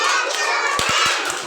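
Several sharp hand claps from children in a classroom, a quick burst of three claps followed by a fourth, close by over a steady bright background of children's voices and room noise.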